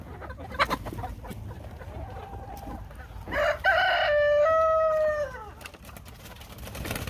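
Chickens cluck in a backyard coop while a rooster lets out one loud, close crow with a long drawn-out final note, over soft clucking and light background noise.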